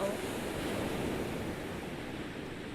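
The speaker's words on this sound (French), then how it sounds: "Visualisez, imaginez, ressentez ces vagues." Ocean waves breaking along the shore, a continuous broad wash of surf with some wind, steady and fairly close, no distinct individual crashes.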